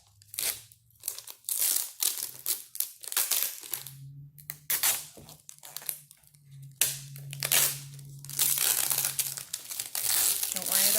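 A peel-off face mask is pulled slowly from the skin, giving a close, continuous crinkling and tearing crackle in uneven bursts, with a low voice hum running underneath.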